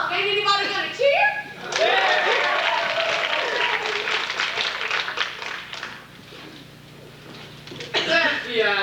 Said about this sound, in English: ain't anybody gonna cheer?